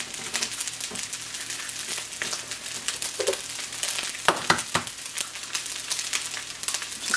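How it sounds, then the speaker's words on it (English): Eggs frying and sizzling in a pan, steady crackle throughout, with a spatula scraping and stirring as they are scrambled; a few sharper scrapes and clicks stand out near the middle. "And I'm using my spatula. I'm just going to scramble them."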